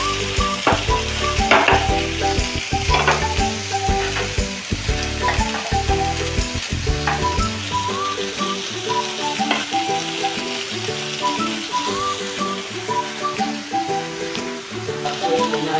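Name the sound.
tomatoes frying in a pan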